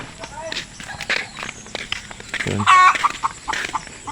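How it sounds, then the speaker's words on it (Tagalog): Chickens around a rural house in Quezon province, with a burst of clucking and squawking standing out midway, while people talk over them and footsteps pass nearby. "Ang dami manok doon sa taas, oh."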